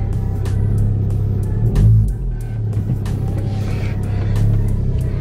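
A Ford Focus ST225 drives on a test run after a driveshaft change, a steady low engine drone and road rumble filling the cabin with a brief swell of throttle partway through.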